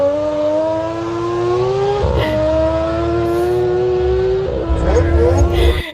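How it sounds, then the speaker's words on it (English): A rally car engine revs continuously with sharp pitch shifts between gears, loud and close, a steady rising drone with brief breaks where the tone drops and climbs again. "I'll just play the car reeing."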